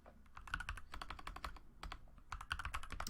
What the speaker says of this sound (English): you can just type in whatever keyword.